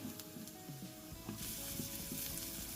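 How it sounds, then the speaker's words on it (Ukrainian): Quiet, steady sizzling of onion and carrot frying in butter in a pan, a soft crackling hiss that grows slightly fuller partway through. "до цибулі з морквою ще й додаємо грудочку масла і продовжуємо смажити"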